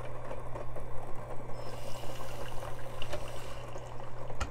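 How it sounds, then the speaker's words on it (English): Water poured into a Flair58 lever espresso maker for a quick flush, a steady trickling, splashing stream under a constant low hum, alone with no talking, ending in a brief knock. "To quick flush, put some water in."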